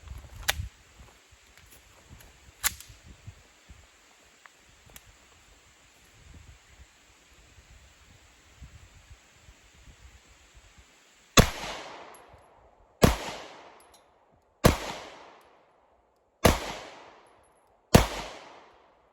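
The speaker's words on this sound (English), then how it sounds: "I've really enjoyed shooting this little C2. It is a very fun pistol to shoot. Last 5 rounds" Five sharp, loud pistol shots from a Staccato C2 ring out in an evenly spaced series outdoors, each with a short echoing decay, after quieter handling and rustling.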